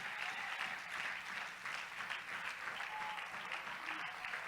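A church congregation claps together in a steady, dense wash of applause during a worship service, held at an even level throughout and quite distant.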